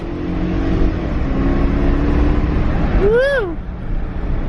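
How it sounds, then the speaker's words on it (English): BMW 740iL engine revved hard in first gear, a loud rising-and-falling rev sweep near the end over steady engine rumble, with someone talking over the running car beforehand. "So when I rev it out like that in first gear, yeah, she shakes a bit."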